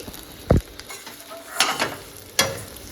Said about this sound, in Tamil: சேர்த்திட்டு நல்ல லைட்டாக வறுத்து விடலாம்